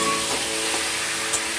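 Poultry meat pieces frying and sizzling in a pan with ginger, garlic and fried onion, a steady bright hiss close up with no talk.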